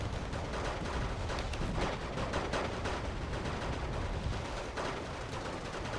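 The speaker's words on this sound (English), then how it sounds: "More artillery being fired on the riflemen." Distant artillery and gunfire in Wargame: Red Dragon, a dense, continuous crackle of overlapping blasts and bursts rolling steadily at low volume with no speech over it.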